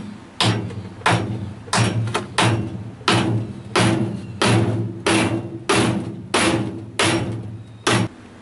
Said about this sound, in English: You saw how much hammering I had to do to get it in there.